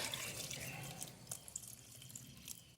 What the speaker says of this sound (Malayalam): പിന്നെന്താ വെള്ളം ഒഴിക്കട്ടെ